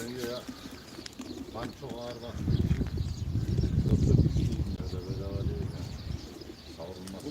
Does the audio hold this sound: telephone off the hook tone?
no